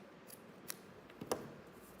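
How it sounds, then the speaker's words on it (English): Non-fabric scissors snipping fabric for a sunflower napkin holder, a few quiet, sharp snips spread across a soft background. "This isn't really my fabric scissors, but it'll work."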